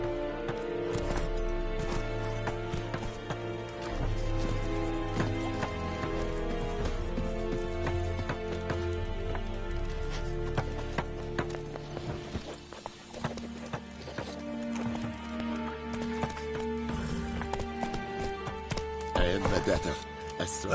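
Roach the horse gallops in the video game The Witcher 3, its hooves clip-clopping in a quick, steady rhythm beneath game music and occasional voices.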